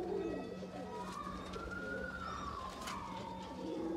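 Breeder pigeons cooing in a loft, soft repeated coos carried over a steady background hum, with faint bird calls alongside and no talking.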